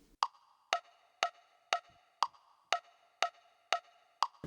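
A Positive Grid Spark amp's built-in metronome clicks at 120 BPM, nine crisp, evenly spaced ticks sounding alone against near silence.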